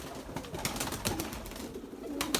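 Pigeons coo and flutter around a loft, low burbling coos mixed with wing flaps and rustling, moderately close and fairly quiet, with no talk.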